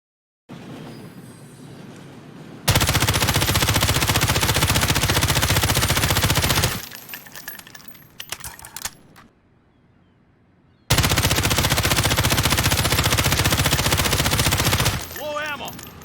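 Automatic rifles such as the M13, Kilo, M4 and Grau fire in Call of Duty, with long, loud, continuous bursts of rapid gunfire separated by quieter gaps of reloading and handling noise.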